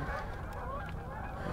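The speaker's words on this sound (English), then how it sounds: "That's a decent number of geese." A flock of geese honking during a waterfowl hunt in Wisconsin, a dense overlapping chorus of calls at moderate distance, steady for the whole brief moment with no talking.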